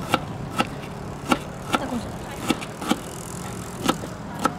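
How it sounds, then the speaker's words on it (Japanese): A knife chops green onions on a cutting board in about ten sharp, evenly spaced knocks, close and distinct over a faint background hum. "そしてネギ切っちゃうと、ネギ切っちゃう"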